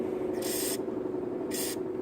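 Two short, loud hissing bursts of aerosol starter fluid sprayed into the carburetor of a GY6 scooter, each about a third of a second, separated by a pause over a steady low hum.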